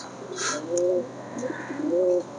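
Yellow Lahori pigeons cooing up close, several soft throaty coos in a slow rhythm with faint chirps and a low background hum, no talking.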